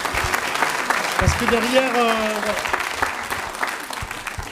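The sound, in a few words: audience applauding at a school theatre show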